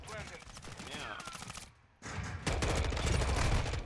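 An automatic sentry gun in a multiplayer shooter game fires rapid bursts of gunfire, with a brief lull before a heavier stretch of sustained shots.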